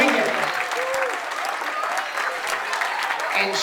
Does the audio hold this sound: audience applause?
yes